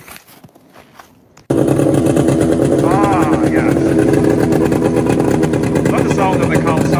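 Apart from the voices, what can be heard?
vintage Kawasaki and Arctic Cat snowmobile engines running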